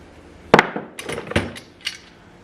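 Assorted metal clamps, including speed clamps and C clamps from a mystery box, clank and clatter as they are handled, with one sharp knock followed by several lighter metallic clinks up close.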